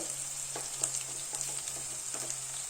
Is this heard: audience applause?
no